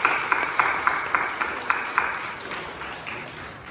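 A church congregation at a Sunday worship service claps for members celebrating birthdays, a light, evenly paced clapping with sharp individual strikes that gradually softens.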